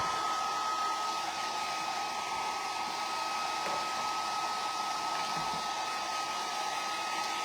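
Hair dryer running steadily at close range to dry paint on a craft pumpkin shelf sitter, a continuous loud whooshing hum with no pauses or talking.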